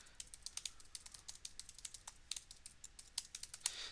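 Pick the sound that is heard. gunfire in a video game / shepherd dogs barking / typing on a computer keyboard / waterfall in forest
typing on a computer keyboard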